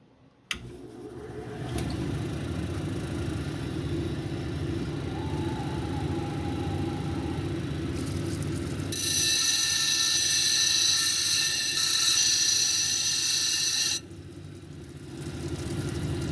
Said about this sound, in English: So let's start grinding.